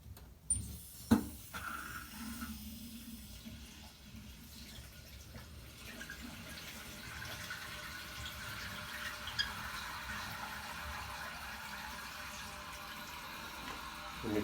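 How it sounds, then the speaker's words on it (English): A newly installed Members Mark toilet tank refilling after the supply valve is opened, a few clanks at first, then a steady rushing hiss of water that keeps running. "Okay, now what you want to do is just turn the water on."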